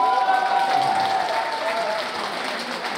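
Applause from a gathered crowd at a Korean fan-club founding ceremony and festival, steady and moderately loud for the whole stretch, with a voice speaking faintly over it.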